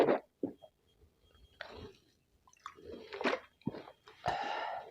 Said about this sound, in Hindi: थोड़ा सा पानी हम पी लेते हैं।